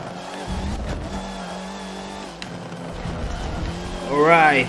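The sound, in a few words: touring race car engine, from video game Forza Motorsport 7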